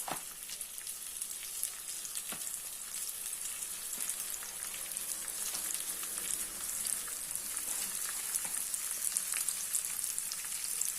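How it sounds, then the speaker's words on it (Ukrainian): Zucchini flowers, eight of them, fry in an oil-filled pan with a continuous fine crackling sizzle, soft and even throughout, with scattered tiny pops. "Сюди викладаємо квіточки і підсмажуємо їх."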